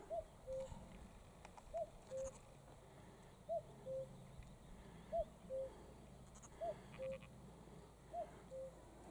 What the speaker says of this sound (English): Cuckoo's just behind us.